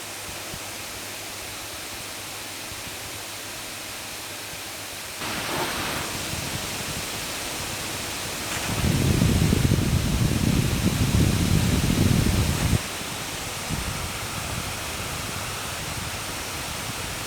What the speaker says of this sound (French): Je vous laisse apprécier le bruit de l'engin en conditions de benchmark avec un stress test